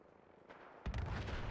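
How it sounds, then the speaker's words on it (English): Gunfire in the video game Fallout 4, distant and muffled at first, then a loud burst of heavy shots and blasts erupts and keeps rumbling on through the rest of the moment. "Still hear gunfiring going on."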